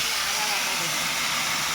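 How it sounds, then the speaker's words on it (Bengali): Spices tempering in hot oil for a Bengali cabbage and potato dish, with cumin and bay leaf in the pan, give a steady, close broadband hiss of sizzling that fills the short stretch without breaks. "ছ্যাঁক করে উঠলো।"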